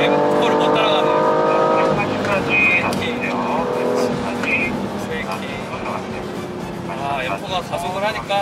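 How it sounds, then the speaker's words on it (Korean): A BMW M4 accelerating hard on a race track at a BMW driving centre gives a steady engine drone with shifting tones, under continuous talking. "180까지 M4가 가속을 하니까"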